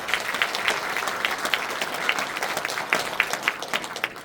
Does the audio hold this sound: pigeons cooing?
no